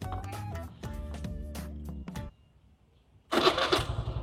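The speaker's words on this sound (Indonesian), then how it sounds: "sekarang kita nyalain dulu starter motor" A Suzuki Address scooter's small engine turns over and idles with a rough, rapid putter, then cuts out briefly before a louder burst of revving.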